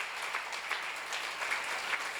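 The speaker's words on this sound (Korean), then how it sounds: "여러분과 내 육체가 하나님의 성전이라고 믿는 사람 박수 주시기 바랍니다." Faint, distant applause from a church congregation during a seminar sermon, a soft continuous patter of many hands heard from far off.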